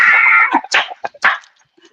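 A voice imitates a dog barking, a drawn-out call followed by several short, loud woof-like yips in quick succession, close and alone.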